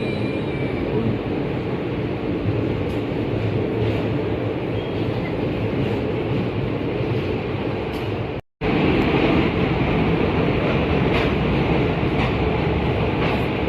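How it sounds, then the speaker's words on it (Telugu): A train pulls into a station in Hubli, giving a loud continuous rumble and rattle of rail cars with a brief cut partway through, then the steady roar resumes. "6:37 వచ్చేసింది అన్నమాట మన ట్రైన్"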